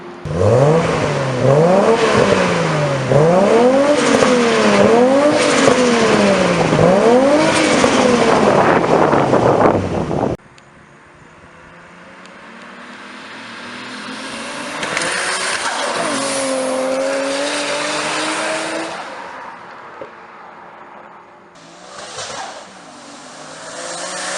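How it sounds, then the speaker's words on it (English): A 1990s-era R32 Nissan Skyline GT-R with a T67 single turbo revs hard through repeated rising and falling gear pulls, then drops to a quieter, steady drive with a brief surge near the end. "this is a R32 Nissan Skyline GTR"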